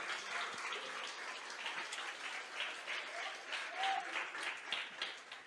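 Church congregation clapping in praise during a Portuguese-language sermon, a steady wash of many hands with a loose, rhythmic pulse, moderately distant and continuous throughout.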